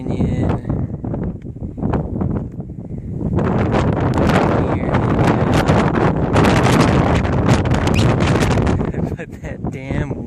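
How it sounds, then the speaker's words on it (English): Strong, steady wind buffets the microphone on an exposed canyon-edge section of the Pacific Crest Trail in Washington, a loud continuous roar and rumble that swells and gusts for about ten seconds with no other sounds. "That damn wind."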